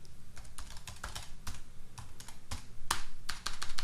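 Rapid clicking keystrokes on a computer keyboard while entering commands into a Cisco 9800 wireless controller's command line, close and crisp, in uneven bursts with brief pauses.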